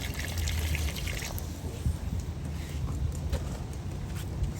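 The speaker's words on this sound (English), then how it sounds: "Now enough water to make sure that pasta is pretty much covered." Water pours steadily over pasta in a cast iron pot at a campfire. The splashing trickle runs continuously and close, with faint clattering in the background.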